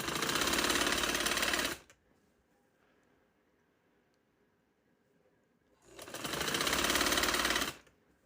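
A sewing machine stitching fabric in two loud, steady runs nearby, each lasting under two seconds, separated by a long quiet stretch with faint room noise and no talking.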